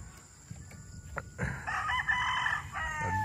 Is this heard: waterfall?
no